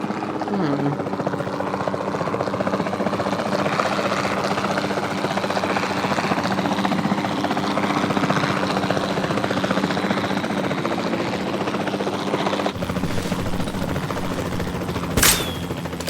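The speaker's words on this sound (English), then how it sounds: "Then the sensible thing is to take a capture team helicopter." A capture team helicopter in Jurassic World Evolution 2 thrums steadily with continuous rotor noise, joined by a sharp burst near the end, while game dialogue plays over it.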